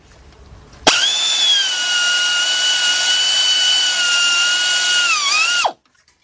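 A powered wrench with a 14 mm shallow socket drives out a starter bolt on a Lexus LS460. It gives one loud, close, continuous whine lasting about five seconds, then stops abruptly.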